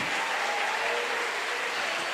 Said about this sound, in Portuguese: Aplauda Jesus esta noite.